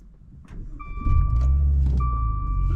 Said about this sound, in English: let's start this car up.